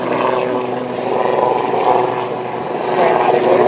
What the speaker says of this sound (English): One of the top businessmen in a helicopter, classic New York, right now.